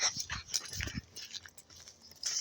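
A dog whines and pants in short, uneven bursts close by, with soft whimpers and breathy huffs scattered through a quiet indoor setting and no talking.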